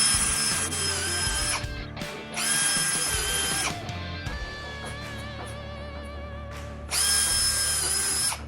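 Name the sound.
power drill countersinking screw holes in a wooden board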